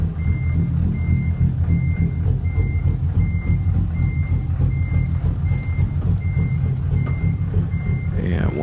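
A semi truck reverses with a steady backup alarm beeping about once every half second, eleven or so evenly spaced beeps over a loud, constant diesel engine rumble heard from inside the cab.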